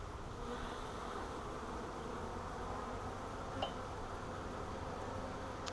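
A good-sized honey bee swarm hums steadily inside a swarm catch box, a dense continuous buzz held at an even level throughout, with one faint brief click partway through.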